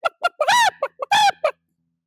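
A mimicry artist's voice imitates a hen clucking and squawking as it flaps, in a quick run of short clucks broken by two longer drawn-out squawks, close and clear, then silence.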